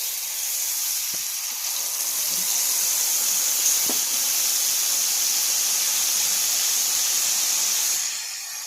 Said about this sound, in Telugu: పసుపు వేసుకున్న తర్వాత కొంచెం కరివేపాకుని యాడ్ చేయాలి. దాన్ని కూడా ఫ్రై చేయనివ్వాలి ఒక 2 సెకండ్స్.